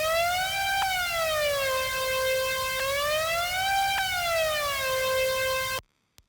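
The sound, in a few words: synth lead with extreme portamento glide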